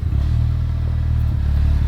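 A new Honda Civic Type R idling, a steady mellow engine note with a deep bass rumble that stays level and close throughout.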